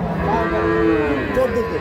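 A dairy cow with a young calf moos in one long, loud, drawn-out low call, close by, with steady background noise.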